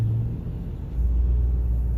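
A Tesla truck passes on a road, a loud low rumble that swells and holds steady as it goes by, with no voices over it.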